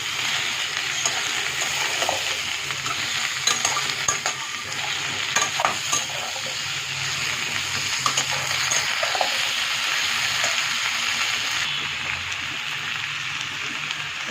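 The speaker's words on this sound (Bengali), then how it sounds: "পটল আলুটা দিয়ে দিয়ে মশলা সাথে ভালোভাবে কষিয়ে নিতে হবে" Pointed gourd and potato pieces frying with spices in a pan, giving a steady loud sizzle with continuous stirring and scraping close by.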